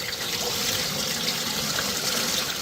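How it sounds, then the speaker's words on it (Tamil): Clear water pours steadily into a pot to boil Mysore dal for a Sri Lankan dhal curry, a continuous close splashing rush with no talk. "நம்மளுடைய மைசூர் பருப்பு வேக வைக்கிறதுக்கு சூப்பரான இயற்கையான தண்ணியை சேர்த்துக்க போகிறோம்"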